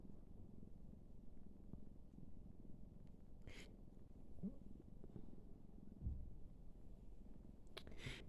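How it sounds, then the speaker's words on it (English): A domestic cat purrs close by, a low, steady, continuous rumble that stays soft and even throughout, with a couple of faint clicks and rustles but no talk. "Pesky cat."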